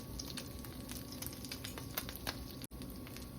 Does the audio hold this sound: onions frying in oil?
yes